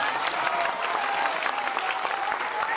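A rally crowd in Banka, Bihar applauds steadily throughout, dense clapping with no pauses and no voices standing out.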